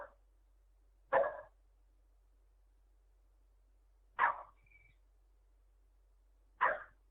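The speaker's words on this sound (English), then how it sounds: "somebody just drove in my driveway, so we're gonna have dogs barking" Dogs bark from a distance at a home as a car pulls into the driveway, three short isolated barks spaced a few seconds apart against a quiet background.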